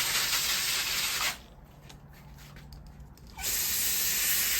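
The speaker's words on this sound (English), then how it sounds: "I'm still gonna wet them off full and spray" A hose spray hisses loudly while watering plants, stops for about two seconds, then resumes, close by with no talking.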